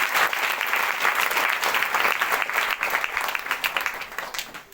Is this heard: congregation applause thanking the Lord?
yes